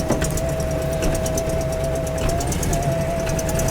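Close, steady running of a Volkswagen Karmann Ghia engine, with a rhythmic ticking mechanical chatter and a thin whine as the automatic car is put in gear and starts rolling.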